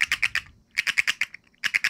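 A human voice imitates a tree frog call with rapid, rhythmic clicking chirps in three short bursts separated by brief pauses, fairly close and moderately loud, with no other talk.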